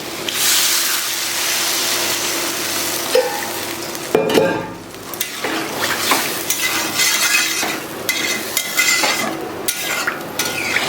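Water goes into a pan of fried potatoes and pointed gourd, setting off loud hissing sizzles and bubbling, with a spoon scraping and stirring in bursts throughout.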